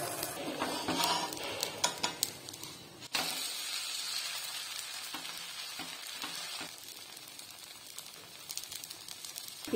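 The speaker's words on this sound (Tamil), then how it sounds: "இது அப்படியே கொஞ்சம் மீடியம் ஃப்ளேம்ல நமக்கு நல்லா வெந்து வரட்டும்." Barley adai dosa fries in groundnut oil over a medium flame, crackling and sizzling up close with scattered sharp pops, an abrupt jump in loudness partway through, and no speech.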